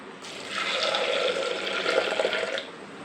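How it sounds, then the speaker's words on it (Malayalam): Water poured into a cooking pot of green gram curry for puttu, a steady splashing pour running about two seconds, close and moderately loud, with no talk. "ഇനി ആവശ്യത്തിന് വെള്ളവും കൂടെ ഒഴിച്ചു കൊടുക്കാം"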